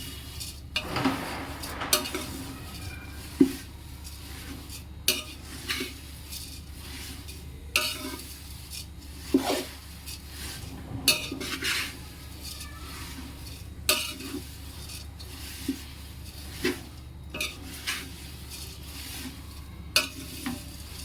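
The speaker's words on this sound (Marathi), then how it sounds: "आता हे आपण आपले पोह्याचे पातळ पोहे आपण हे भाजून घेत आहोत" Thin poha dry-roasts in a pan for chivda, with a spatula scraping and stirring at intervals, each stroke a soft clatter over a faint steady crackle, close and fairly quiet.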